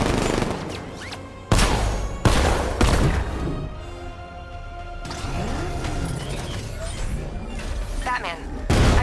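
Heavy tank cannon blasts in the video game Batman: Arkham Knight boom out in bursts, each a loud broadband crack, with mechanical rumble and clatter filling the gaps between shots.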